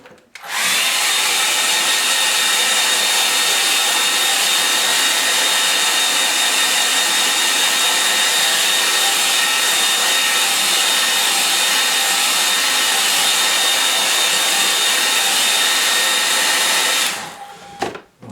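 A hair dryer blows steadily and loudly on a watercolour painting of a winter lake scene, a continuous whirring roar that runs for about sixteen seconds before clicking off.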